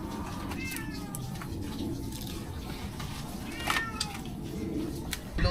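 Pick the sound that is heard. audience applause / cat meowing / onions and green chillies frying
cat meowing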